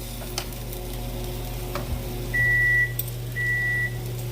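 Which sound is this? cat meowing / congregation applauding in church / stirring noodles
stirring noodles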